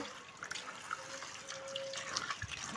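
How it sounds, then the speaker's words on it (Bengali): Shing fish being scrubbed and rinsed in a basket under running water, with splashing, trickling and scattered drips and knocks from handling, fairly close, no voices. "আমি মাছগুলো আবার একটা ঝুড়ির ভিতর করে ভালো করে ঘষে ঘষে ধুয়ে নিব"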